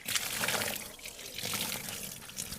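Water diluted with a decomposer culture is sprinkled by hand over layers of dry leaves in a compost heap, giving soft, uneven splashing and pattering bursts up close, without talk.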